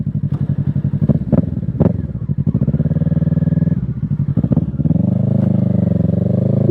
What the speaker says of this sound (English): It's better than a stock exhaust.